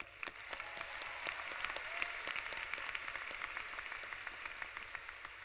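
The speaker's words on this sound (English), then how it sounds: "Let's give them a round of applause" Crowd applause at a college commencement ceremony, steady dense clapping heard at a distance and fairly faint, with no voices over it.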